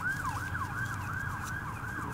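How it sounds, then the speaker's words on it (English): An emergency vehicle siren wails in a steady, repeating rise-and-fall pattern at moderate distance over low traffic rumble, with no voices. "Got this siren in the back."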